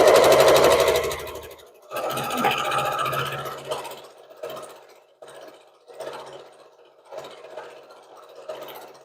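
A sewing machine stitches red and white cotton fabric for a patriotic quilted pot holder, running in several short bursts with brief pauses between, close and moderately loud, with no talking.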